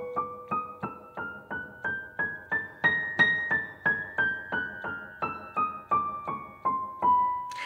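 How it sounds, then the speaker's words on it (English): Solo piano plays the right-hand melody of a theme from Up in an easy arrangement: a steady run of single, evenly spaced notes, clear and close, alone with no talking. "So all together, the right hand sounds like this."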